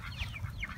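Chickens being fed a mixed grain and corn feed cluck softly in a short burst amid faint background noise.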